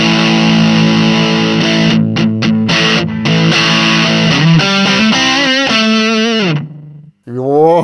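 Distorted electric guitar run through the first factory preset of a Zoom MS-50G+ multi-effects unit, a single drive pedal sound, playing loud sustained chords and riffs alone before a brief pause and a final strum.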